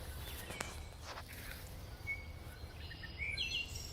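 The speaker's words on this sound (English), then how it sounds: "It's very birdy today." Birds along a tree line during spring migration, faint thin chirps and short song phrases over a soft outdoor background with a few rustling steps.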